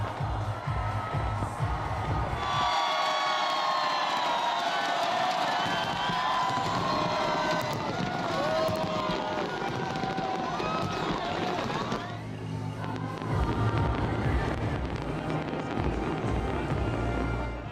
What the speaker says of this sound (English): Hong Kong ushered in 2014 with a loud bang. As fireworks illuminated the sky over Victoria Harbour.